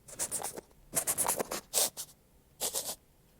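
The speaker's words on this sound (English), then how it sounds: "When it's sniffing around." A Minecraft fox sniffing around in a video game: quick clusters of sharp, airy sniffs in short bursts with pauses between. They are close and moderately quiet, with no speech.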